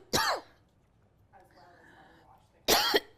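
Two sharp coughs, one at the start and one near the end, with a quiet stretch and faint background sounds between them.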